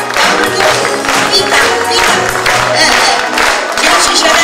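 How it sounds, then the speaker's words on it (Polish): An audience applauds steadily and loudly at an indoor event, with dense clapping throughout and a voice over it. "Wielkie brawa dla pani Hani, która dziennie się spisała i dojechała do nas."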